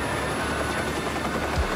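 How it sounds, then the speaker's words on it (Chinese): Helicopter rotor chopping in Watch Dogs 2, a steady near whir held through the short span with no talk. "啊，喂，有直升机"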